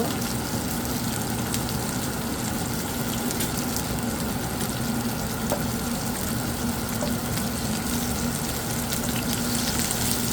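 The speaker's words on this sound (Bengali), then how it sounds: "আস্তে আস্তে লাল লাল করে ভেজে নেব মাছটা" Rohu fish pieces frying in oil in a pan, a dense, continuous close sizzle that stays even and loud throughout.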